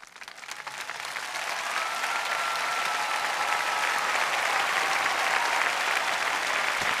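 A large audience applauds Pope Francis's speech at World Youth Day in Poland, sustained dense clapping that swells in the first second and then holds steady and loud.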